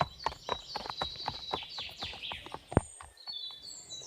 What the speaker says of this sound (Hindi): तभी कुछ शिकारी अपने घोड़े लेकर जंगल में आ गए शिकार के लिए।